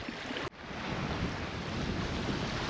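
Ocean waves wash along the coast at Cape Riche, a steady broadband roar of surf and wind that drops briefly after a sharp break, then swells back and holds full and continuous with no one speaking.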